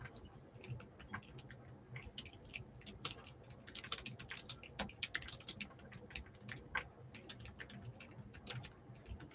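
Steady, brisk tapping of keys on a computer keyboard, close and moderately quiet, continuing without pause over a soft low hum, with no voices.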